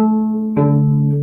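Cello plays two sustained bowed notes from Cotton-Eyed Joe, one held note shifting to a lower one with a fresh bow stroke, close, loud and clear without talking.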